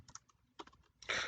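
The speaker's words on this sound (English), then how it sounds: "So if I just type that in for a sentence spelling" Someone typing a sentence on a computer keyboard, several quiet close key taps in small clusters, then a brief louder burst of clicks at the end.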